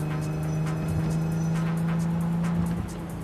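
A rundown car driven in Cyberpunk 2077 gives a steady, droning engine hum that holds evenly close up for about three seconds, then eases off slightly at the end.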